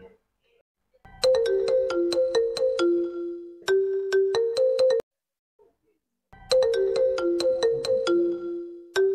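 A phone ringtone plays a repeating melodic pattern in three loud bursts separated by short pauses, close by and clear.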